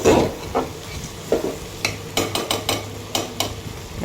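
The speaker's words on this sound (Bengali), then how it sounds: "কষায় নিচ্ছি খিচুড়িটা।" Khichuri being sautéed and stirred in a pot, with a spoon scraping and clacking against the metal in a quick series of distinct strokes over a faint, steady sizzle.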